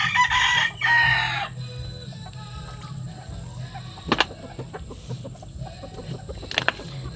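A loud rooster crow rings out at the start, followed by scattered clucks and faint farmyard noises in the background.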